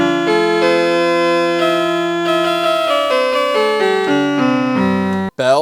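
Sustained bowed-style notes from a Kawasaki Kids toy keyboard's violin voice form a connected melodic line, loud and close, ending in a brief pitch-sliding blip.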